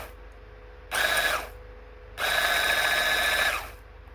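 An Acekool 800W immersion blender whirs in two close bursts, a brief half-second spin followed by a longer, steady high-pitched run of over a second, with a faint hum between them.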